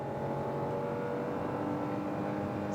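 A Hyundai Creta N Line with a 1.0 turbo engine pulls hard at full throttle from 60 km/h, its engine note holding a steady, strained drone heard from inside the cabin without any talking.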